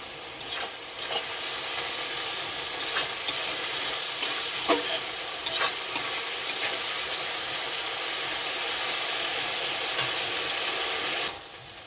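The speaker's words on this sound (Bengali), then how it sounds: "আদা আর জিরে বাটা এবারে এগুলোকে নাড়াচাড়া করে ভালো করে কষিয়ে নেবো" Ginger and cumin paste, with a little sugar, sizzling and fried in a pan for bitter gourd dal, a dense continuous hiss with faint scraping stirs scattered through, close and steady until it cuts off at the end.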